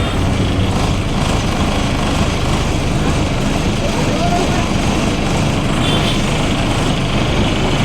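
A loud, steady bus engine drone fills the air without a break, a heavy rumbling hum heard from inside the moving bus.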